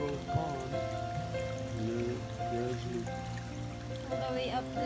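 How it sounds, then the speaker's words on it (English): A small mountain creek flowing near a cabin, a soft continuous trickle and babble heard close, with people talking over the water. "This is just the little creek that I Yeah, mentioned."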